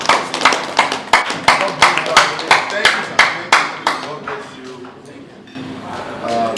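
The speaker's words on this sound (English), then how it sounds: "Please a round of applause for the MDC" Round of applause at a celebration for someone, loud distinct claps in a quick regular rhythm near the listener, fading out after about four seconds as a voice speaks.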